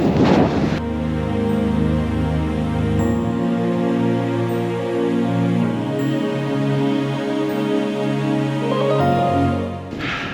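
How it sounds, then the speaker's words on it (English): Strong wind roars steadily against the microphone on a mountain ridge in North Macedonia, a constant low buffeting rush with gusts, no voices, loud and close throughout. "but it is windy"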